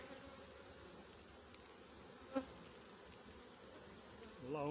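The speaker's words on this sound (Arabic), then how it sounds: "عامر نحل" Honey bees cluster densely on a hive frame, producing a continuous soft buzzing hum with occasional louder passes of individual bees close by, low and steady throughout.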